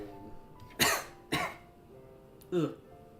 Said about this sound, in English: Still have my cough going.